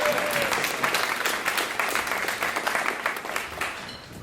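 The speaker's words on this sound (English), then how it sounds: "Can we get another big round of applause for John and Gunnar" Audience applauding jazz band musicians at a live studio jazz band show in a small venue, steady dense clapping throughout, fairly close and continuous with no talk.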